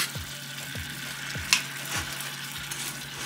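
Seasoning cooks in a pot for Jamaican escovitch fish, sizzling softly while a spoon scrapes round the pot in a slow repeating stirring rhythm, with one sharp clink midway.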